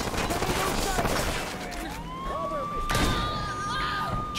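Gunfire in the video game Hatred, dense bursts of shots and thuds with a siren-like wail rising through the middle, a chaotic layered mix of game combat sounds.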